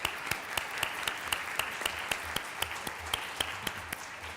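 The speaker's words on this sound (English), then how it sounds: "let's applaud all together and say thank you to our panelists." A conference audience applauds its panelists at the close of a session on sustainability of critical raw materials, steady clapping with sharp individual claps standing out, moderately loud and without talk.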